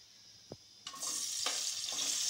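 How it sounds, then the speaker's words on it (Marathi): A single click, then vegetables hit hot oil in a kadai and burst into a loud, steady sizzle that carries on with a couple of stirring swells. "सर्व भाज्या मी फ्राय करून घेते"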